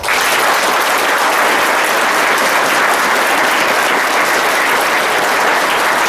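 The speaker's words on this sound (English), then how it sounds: "Give them a great clap." A large audience at a school function applauds the parents, a loud, sustained wash of many hands clapping continuously and evenly throughout.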